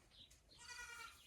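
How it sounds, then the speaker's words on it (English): Goats bleating at feeding time, a faint, distant wavering bleat with low background noise and no one talking. "sorry about the goats, it's their feeding time."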